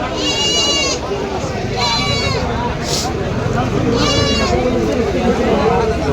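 Goats bleat repeatedly, loud and close, over the steady hubbub and chatter of a busy livestock market (haat) at Joypara in Dohar, Dhaka district.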